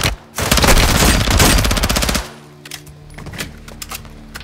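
Sustained bursts of close, loud automatic gunfire from aimed shooting in Call of Duty: Modern Warfare II, a dense rapid rattle for about two seconds, then scattered single shots and quieter combat sounds.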